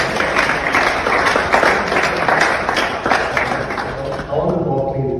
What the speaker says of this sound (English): So a round of applause for you.